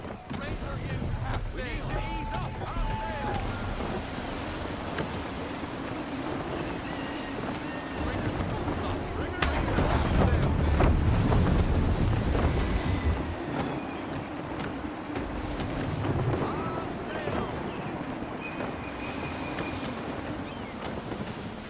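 Gusty wind buffets a sailing ship at sea in Assassin's Creed III, a continuous broad whoosh with wave wash that swells into a stronger gust midway. Voices talk intermittently over it.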